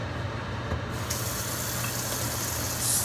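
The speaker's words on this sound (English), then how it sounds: "We're going to rinse." Tap water runs in a steady hissing spray over raw protein being rinsed in a catering kitchen, a continuous broadband wash with a brief shift in tone partway through.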